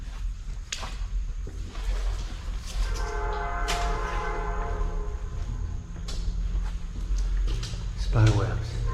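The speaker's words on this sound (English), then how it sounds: "I think the trains are coming." A train rumbles past with a sustained, multi-tone horn blast in the middle; low clattering continues throughout, with a voice occasionally audible.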